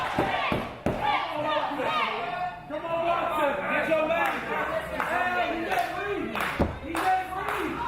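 A wrestling crowd at the FSW Arena chants and cheers with rhythmic clapping and sharp slams, loud and sustained under lively crowd voices.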